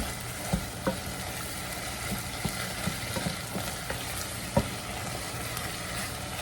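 Spaghetti sauce with tomato sauce and Italian seasoning cooking in a pan, a steady soft sizzle and bubble with scattered light pops and occasional stirring scrapes.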